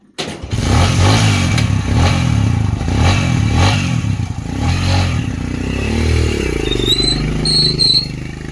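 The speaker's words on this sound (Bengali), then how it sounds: "সকালবেলা ইঞ্জিন ঠান্ডা হয়ে আছে।" A cold motorcycle engine starts up on a morning ride and runs with a rough, loud idle, rising and falling in a few revs, with faint high tones appearing near the end.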